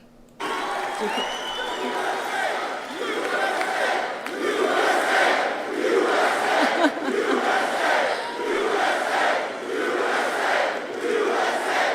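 A large crowd at a Trump town hall in Oaks, Pennsylvania roars and cheers continuously, loud and sustained, with shouts blending into a broad wall of noise.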